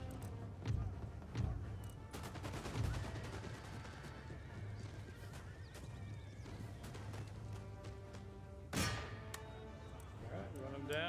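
Musket volley gunfire in the video game Empire Total War: muffled, distant-sounding crackling volleys and thumps under a busy battle din of hooves and neighing horses, with a voice talking over it.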